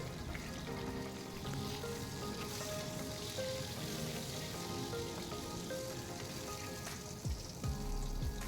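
Pieces of katla fish fry in hot oil with a steady, dense crackle and hiss that holds evenly throughout, with faint tonal sounds running underneath.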